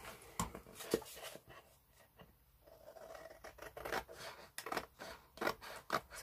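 Scissors snip and trim a heavy 500 GSM card journal cover, close and crisp, with a series of sharp cutting bursts separated by brief pauses and no talking.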